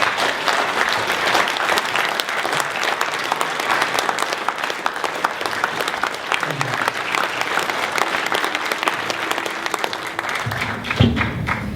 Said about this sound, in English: I want y'all to give a strong round of applause for our good brother, Dhoruba bin Wahad.